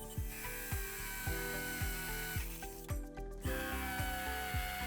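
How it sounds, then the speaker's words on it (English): A power drill fitted with a 7 mm bit bores a hole to full depth for wall plugs. It works in repeated short bursts, each sagging in pitch, in a steady rhythm close by, with no talk. "Now let's change it for the finishing diameter drill bit, which is 7 millimeters, and drill down to the full depth."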